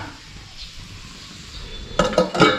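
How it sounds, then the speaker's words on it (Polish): Metal lid clanks down onto a pan of simmering low-carb green stew: a few sharp clatters close by, following a quiet stretch of faint kitchen background. "Teraz przykrywam całość i czekam Chodź tu pokrywka."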